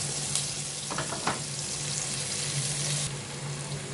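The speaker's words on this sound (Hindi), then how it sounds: "सबसे पहले प्याज को बस हल्का सा फ्राई करना है" Sliced onions fry lightly in a hot pan, giving a steady, close, bright sizzle with a few soft stirring bumps and no talking.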